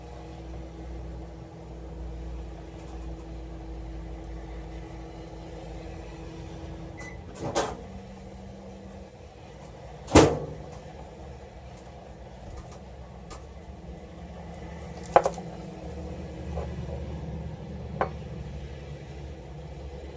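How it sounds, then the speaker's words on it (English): A microwave oven hums steadily in the background, with a few scattered clicks and knocks, including a sharp thud midway and a beep-like tone later. "just a few seconds in the microwave"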